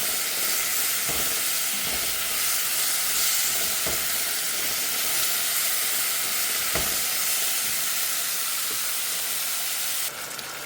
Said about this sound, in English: the reason why I'm frying them in the pot